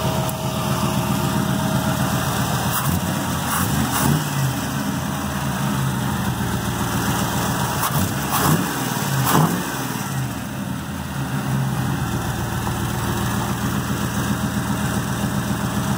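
A 1991 Chevy S10 with a swapped LS 5.3 V8 idles loudly and steadily close by, with a few short revs. The exhaust leaks give the note a rough edge.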